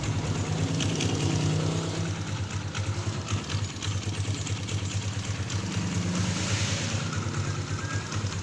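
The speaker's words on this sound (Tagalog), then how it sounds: "merong parang coins kumakalansing dito sa kanyang clutch side" A KLX 150 motorcycle engine idles steadily nearby, its low drone carrying a light, coin-like metallic rattle from a faulty clutch housing.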